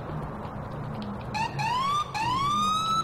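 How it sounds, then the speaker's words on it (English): A video game police car siren winds up in rising electronic wails, starting at about the halfway mark and repeating loudly over a low rumbling background. "Put our sirens on to make sure that we're coming."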